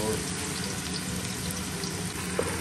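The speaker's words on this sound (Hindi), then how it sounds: "तो प्याज हमने इसमें ऐड कर दिए" Sliced onions go into hot oil for a chicken and potato curry, producing a steady, low hiss of frying throughout, fairly quiet and even, with a faint voice in the background.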